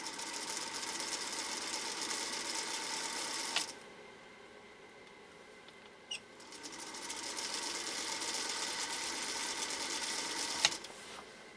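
A Singer sewing machine motor runs with a steady, close mechanical whir that drops briefly to a softer hum before picking back up. Sharp clicks punctuate it, and no one speaks.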